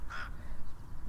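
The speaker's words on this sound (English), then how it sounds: "alarming crow" A crow gives a single short harsh alarm call near a tidal harbour, brief and moderately loud over low background rumble, followed by quiet.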